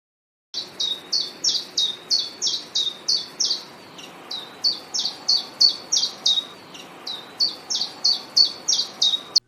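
A chiffchaff calls from among the leaves with a long run of short, bright chirps. The notes repeat at a steady, quick rhythm in two bursts, clear and fairly close, with no voices.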